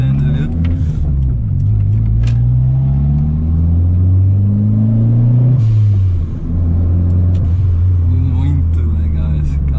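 A Ford Ka 1.6 fitted with a turbo kit rumbles steadily from inside the cabin, its engine tone rising and falling with throttle, while a person talks over it.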